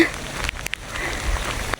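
Rain falls in a stormy rice-field area while someone films in rain gear, a steady near patter of drops with a few sharp taps and knocks close by.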